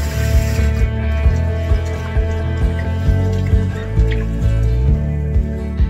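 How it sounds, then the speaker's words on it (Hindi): Lentils for daal bati are washed in water with repeated rhythmic sloshing and splashing pulses, near and fairly loud, liquid swirling and dripping between strokes. "तो भिगोने के पहले दाल को हम अच्छी तरीके से वॉश कर लेंगे।"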